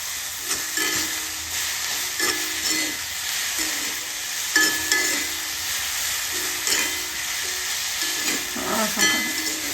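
Green chilli thecha with peanut powder and salt being sautéed in a pan, a steady broad sizzle with soft stirring scrapes and occasional louder clatters throughout, close and continuous with no talking.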